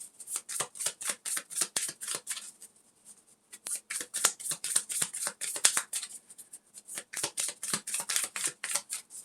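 Tarot cards shuffled by hand in quick repeated riffling bursts, crisp papery flicks near and clear, with a short pause midway before the shuffling resumes, no talk.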